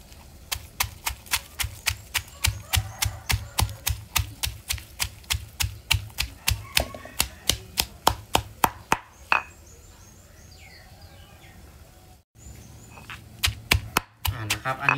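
A mortar pounds chili, garlic, shallots and shrimp paste into curry paste with rapid, regular thuds, about three per second, close up, breaking off around halfway before a few more strikes return near the end.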